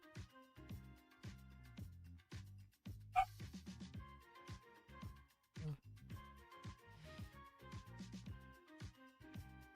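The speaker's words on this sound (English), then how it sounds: "let's go see what my dog's barking about" Dog barking in the RLCraft modded Minecraft game, repeated short sharp barks scattered across a busy background of game music, with one louder yelp standing out near the middle.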